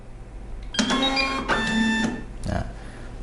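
Kassen E460 barcode label printer whirs briefly after network setup, a short mechanical motor run with tonal whine, ending in a soft clunk, quiet and close.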